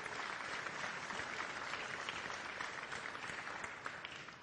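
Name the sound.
audience applause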